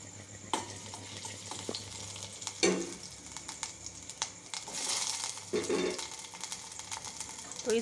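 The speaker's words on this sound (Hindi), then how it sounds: "ये सब डाल के अच्छे से भून लेंगे" Quiet sizzling and crackling of cumin, mustard seeds and green chilies frying in oil in a pan, with a few scraping stirs and clatters of a utensil.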